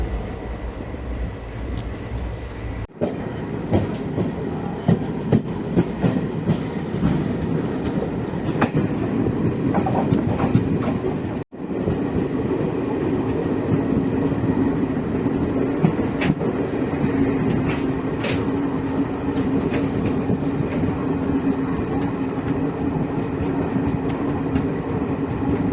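The Muri Express, running late because of a locomotive fault, rolls along the rails with a steady, loud, close rumble and rhythmic clatter of wheels, with occasional brief sharp knocks and no voices.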